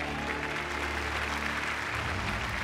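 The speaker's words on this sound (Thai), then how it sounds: "ขอเสียงปรบมือดังๆส่งแชมป์คนเก่าของเราครับ" Studio audience at a Thai code-breaking game show applauds the departing four-time champion, a steady, dense burst of clapping filling the room for a few seconds before tapering slightly.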